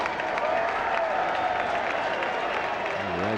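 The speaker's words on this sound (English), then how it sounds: "Raspberry cheer going up here at Fenway Park." A large Fenway Park crowd at a Yankees–Red Sox baseball game lets out a sustained ironic cheer, dense and fairly close, lasting the whole stretch, with a broadcaster's voice faintly underneath.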